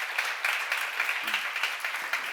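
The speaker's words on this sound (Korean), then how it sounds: "믿는 사람만 박수 한번." Brief burst of applause from a church seminar congregation, fairly dense clapping with a few sharper individual claps standing out.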